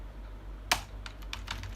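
Typing on a computer keyboard: one sharp keystroke followed by a quick run of lighter key clicks, close and clear over a quiet room hum.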